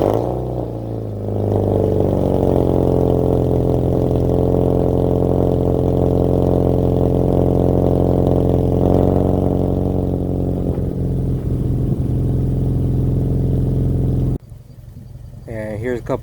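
A four-cylinder car with a dual exhaust cold-starts: a brief crank catches into a loud, steady, droning high idle close by. The idle settles slightly before the sound cuts off abruptly near the end.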